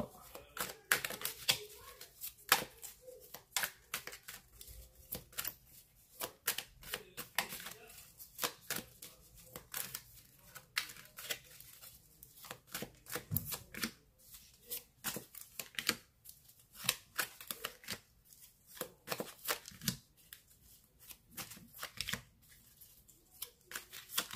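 Tarot cards drawn and handled for a reading: a long run of dense, close riffling, flicking and tapping of cards that continues steadily without pause.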